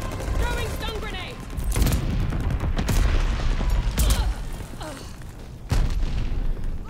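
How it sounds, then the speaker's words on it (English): A stun grenade thrown and bursting in Call of Duty Vanguard, several sharp bangs amid steady gunfire and loud game noise. "Throwing stun grenade."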